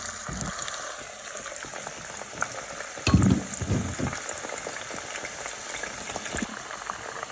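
Spices hit hot oil on high heat, giving a constant crackling, spitting sizzle with a louder burst of bubbling and popping midway, heard close with no talking.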